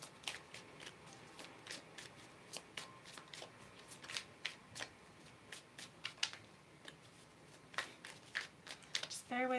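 Tarot cards riffle and flick in a long run of quick, papery shuffles with soft taps of the deck, fairly close but quiet, and a voice speaks in the background at times.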